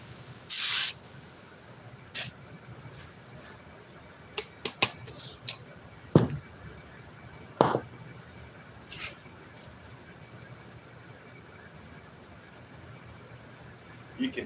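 Spray glue hisses from a can onto a 4-wheeler seat in an auto interior shop, one loud burst near the start and then several short, sharper spurts and clicks spread through an otherwise quiet room.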